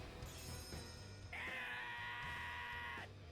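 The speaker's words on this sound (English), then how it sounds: "That scream, though." Ludger's Mirage Art attack in the game Tales of the Rays, a long strained scream held for over a second amid ringing, shimmering effects and booming tones, quiet overall and without other voices.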